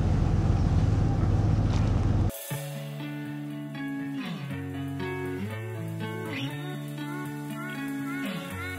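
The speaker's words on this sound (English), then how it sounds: "getting the ferry now, which is just behind us" A ferry travelling on the water on the way to Mudeford beach huts, with a steady engine drone and broadband wind noise that is loud at first, then drops to a quieter layered hum.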